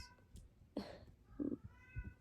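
A cat meows a couple of short times nearby in a quiet room, with faint background noise between the calls.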